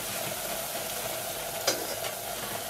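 White potato chips fry in hot oil with a steady, dense sizzle while a metal spatula keeps them moving, one light scrape standing out midway.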